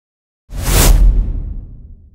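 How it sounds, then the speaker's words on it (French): A whoosh sound effect for title transitions: a single loud, airy swoosh that bursts in abruptly after a short silence, peaks quickly, then fades with a lingering low rumble. "des présentations de titres qui apparaissent, on utilise des whoosh"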